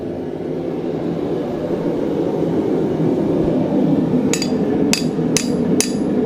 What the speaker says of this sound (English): you can hold it against the anvil, just give it a few taps there